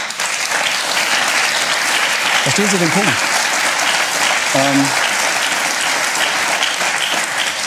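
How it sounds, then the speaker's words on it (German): Studio audience applause fills the room steadily for several seconds during a German TV talk show, with a voice speaking briefly over the clapping. "Genießen Sie den Beifall."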